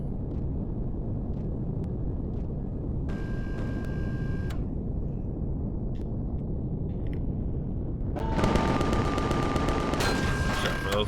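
Bombs detonate in Empyrion Galactic Survival: a low continuous rumble of engines carries under two bursts of rapid crackling blasts and metallic rattles, one around three seconds in and a louder, longer barrage near the end.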